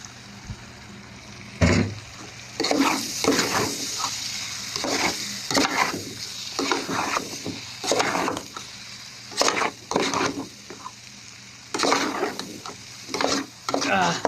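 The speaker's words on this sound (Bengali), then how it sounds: "এখন আমি ডিম দিয়ে দেবো এই যে দেখেন একটু ডিম দিয়ে দিচ্ছি" Egg stirred into papaya and coconut frying in a pan, steady sizzling broken by repeated scraping strokes of a spatula, close and clear.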